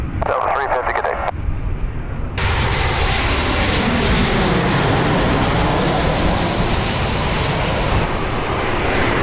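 Jet airliner taking off from San Diego's Runway 9, a loud, close, sustained engine roar that swells after a brief burst of radio-like chatter at the start and then holds steady.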